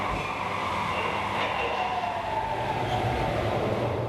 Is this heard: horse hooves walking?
no